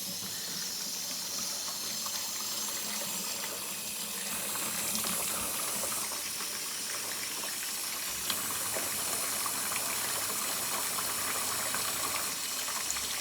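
Steady running water flows continuously during wort chilling after a 90-minute Kölsch boil, a close, even hiss and splash without pause.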